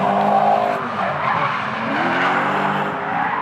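A car drifts on a street drift course at a drift cup event, its tires squealing and skidding loudly and continuously over a revving engine.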